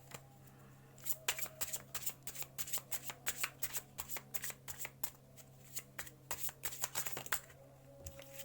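Playing cards are shuffled and spread in a rapid run of crisp flicks and riffles, close and clear over a faint steady hum, with no talk.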